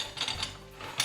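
A lid settles onto a pot of squid stifado with a few brief, light metallic clicks and a final clack, quiet and close.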